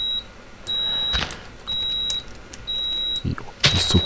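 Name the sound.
alarm beeping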